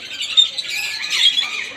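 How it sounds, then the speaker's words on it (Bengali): Several birds squawk in quick overlapping bursts during a family visit to Nahargarh, the harsh calls close and fairly loud with no talking over them. "কি সুন্দর সুন্দর পাখি।"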